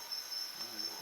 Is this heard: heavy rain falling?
no